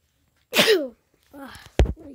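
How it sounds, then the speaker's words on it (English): Two sneezes, the first sharp and close, followed by a second softer one with a quick breathy gasp after it. "I'm really sneezing today"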